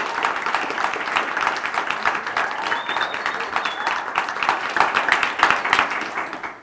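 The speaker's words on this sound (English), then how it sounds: "if you would please give Sylvia a round of applause for her courage to tell her story" Studio audience applause on a talk show, honoring a guest who told her story: a steady wash of many hands clapping, fairly loud and sustained throughout, with a brief faint whistle partway through.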